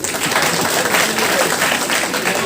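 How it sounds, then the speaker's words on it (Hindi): An open mic and food carving event audience claps for itself, a thick, continuous wash of applause filling the room at full strength from start to finish. "तालियां बजा लें"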